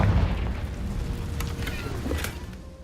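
A fiery Confringo spell blast in the Hogwarts Legacy duel, a heavy booming burst with a rumbling low-end tail and crackling bright flashes over about three seconds of dense, loud combat noise.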